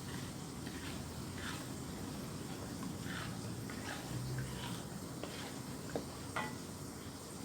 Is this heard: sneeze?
no